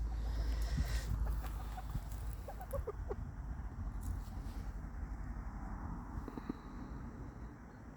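A white backyard chicken clucks in a few soft, scattered notes amid a rustling, noisy outdoor background, fairly faint and without speech.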